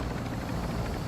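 Steady rotor and engine drone of a helicopter in the video game Call of Duty DMZ, continuous and even, with no break.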